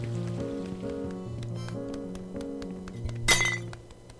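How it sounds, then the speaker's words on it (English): Glass shatters in Untitled Goose Game, a short, bright, clinking crash standing out loud over the looping game music, with no talking. "Broke a glass."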